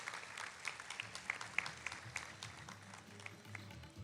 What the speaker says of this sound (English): So let's have a round of applause for class of 2025.